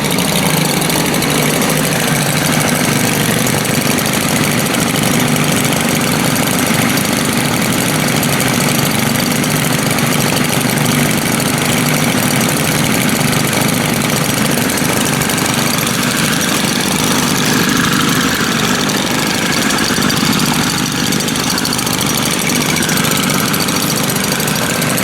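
Small two-stroke string trimmer engine idling steadily after a cold start, a loud, continuous buzzing rattle with slight vibration that holds unchanged throughout, with no voices over it.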